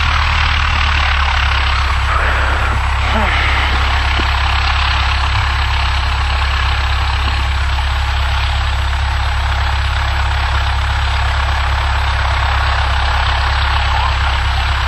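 A Cessna 172 engine drones at an airfield, a steady loud low hum close by that holds constant throughout with no speech.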